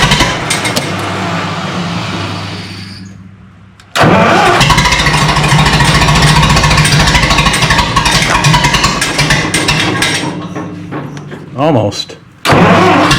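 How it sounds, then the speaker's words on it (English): A Minneapolis Moline tractor engine cranks and catches after a quiet pause, then runs loud and steady close by, with a brief cut before it roars again; someone speaks briefly over it. "Okay, handshake, ignition, choke, start."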